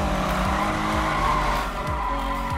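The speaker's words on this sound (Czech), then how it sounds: "Vyjezdíme drifty spolu pomalu, jo?" A car drifts in the 2015 Need for Speed video game, its tires squealing in long continuous skids over a steady engine roar, loud and unbroken throughout.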